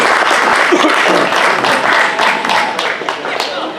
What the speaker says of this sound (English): would you give Mike a big round of applause in his presentation here today?